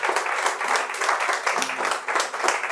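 A church congregation claps during a sermon, a close, lively burst of applause with uneven pulses of hand claps that carry on without a break, with some voices faintly mixed in.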